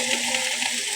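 Food sizzles and fries steadily in a pan while being stirred, a continuous close crackle with soft scraping pulses from the stirring and no voices.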